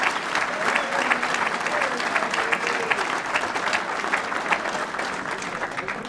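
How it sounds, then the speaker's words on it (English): An audience at a Martin Luther King Day breakfast applauds, with dense, steady clapping sustained throughout at close range and faint crowd murmur beneath it. "Let's give Ed Young a big round of applause."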